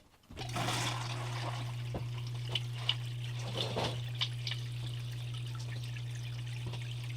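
Water rushes steadily through a gold sluice over wetted paydirt, starting abruptly and running as a continuous pump hum with splashing and occasional drips and trickles.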